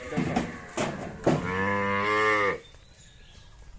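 A bull calf at a cattle market lets out a couple of short grunts followed by one long, loud, close moo, then quiet background.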